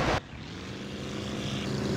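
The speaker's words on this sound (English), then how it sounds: "Yay, the engine works." Propeller aircraft engine in a video game, a steady loud drone with a throbbing low hum that holds and slowly builds after a brief sharp burst at the start.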